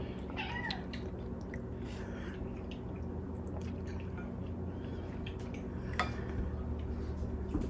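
A cat meows a few times, faint and brief, over steady indoor background hum and scattered small wet clicks and rustles near a kitchen where mushroom soup is being made.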